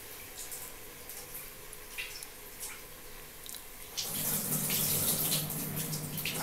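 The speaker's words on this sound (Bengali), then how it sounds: "সব ধুয়ে চাল ডাল সবজি ধুয়ে দিয়ে দিচ্ছি" Rice, lentils and vegetables rinsed under a running kitchen tap for mixed vegetable khichuri, a steady close water stream that grows louder and fuller partway through, with no talking.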